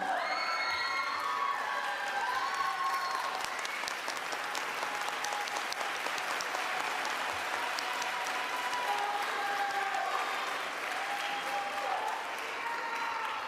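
Graduating seniors at a high school commencement draw sustained applause from the crowd, mixed with cheers, whoops and shouting voices that carry on evenly for many seconds.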